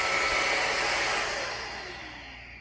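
A Belife cordless stick vacuum cleaner runs on hard flooring, giving a steady airy whine with a hissing rush that gradually fades and drops in loudness toward the end.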